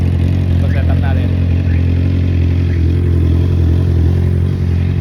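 A motorcycle idles steadily while warming up before a ride, a near, continuous low engine rumble with light mechanical clatter, plus a few faint brief sounds over it.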